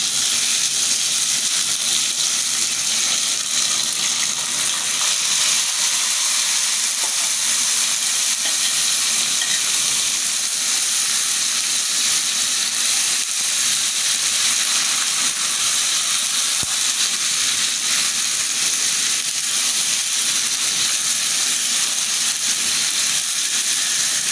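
Beef and potatoes frying in fat in a pan: a steady, even sizzle and hiss that runs unbroken throughout, moderately loud with no talk.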